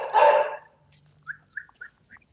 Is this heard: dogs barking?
yes